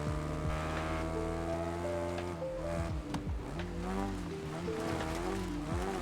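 Race car engine in Wreckfest 2 revving and shifting pitch steadily as the driver leans on the handbrake through corners, with a brief tire scrub midway, loud and continuous.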